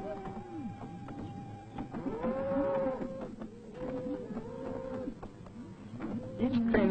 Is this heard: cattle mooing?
yes